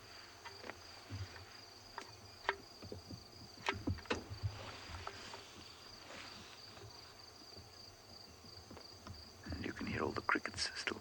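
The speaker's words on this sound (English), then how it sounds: "All the crickets are still calling" Crickets calling through the dawn darkness on a safari drive, a steady high insect chorus with a faint droning hum underneath and occasional voices and rustles.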